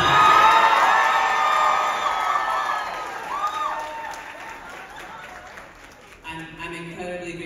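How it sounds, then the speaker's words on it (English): Event audience applauds and cheers, with whoops and shouts over strong clapping that gradually fades, then speech resumes near the end. "Please give my wife a round of applause."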